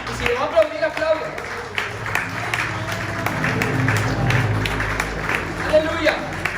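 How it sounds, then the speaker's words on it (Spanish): Congregation clapping in a Spanish-language church service, a dense continuous wash of applause with scattered cheers and voices, moderately loud and steady throughout. "Y si le va a aplaudir, aplauda."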